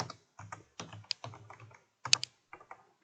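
Typing on a computer keyboard in short bursts of crisp, close key clicks with brief pauses while a formula is entered in a Microsoft Excel spreadsheet, alone with no talk.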